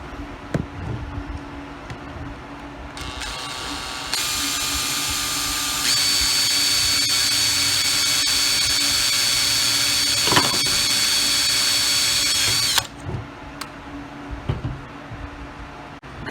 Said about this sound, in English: You're gonna take your drill and you're gonna drill a hole in there with your 3/32 drill bit.